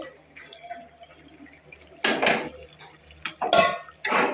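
Raw fish pieces set into a pan for Kerala-style fish fry: a couple of loud, close clatters and sputtering bursts of sizzle, preceded by quieter kitchen rustling and faint metallic clinks.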